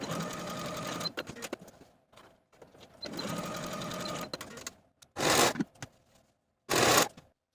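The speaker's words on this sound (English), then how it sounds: "I'm going to be using my serger." A serger sewing the shoulder seams of a tank top whirs in close bursts of about a second each, with a couple of shorter, louder bursts near the end and quiet fabric handling between them.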